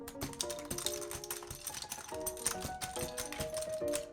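Keycaps pulled one at a time from a Razer Huntsman V2 TKL keyboard make light, scattered clicks and taps. Steady background music plays throughout.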